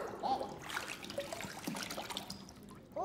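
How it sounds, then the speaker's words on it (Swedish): Water from a bottle trickles and splashes into a bucket at close range, a brief uneven pour. "Pojken försökte fylla hinken med vatten från flaskan."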